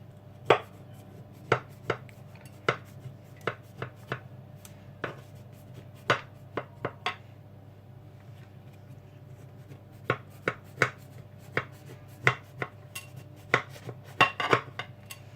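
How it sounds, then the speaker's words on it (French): A knife cuts rolled baklava pieces before baking, making sharp, close taps on a board in irregular bursts with short pauses between, over a low steady hum. "Il faudrait couper les morceaux avant la cuisson."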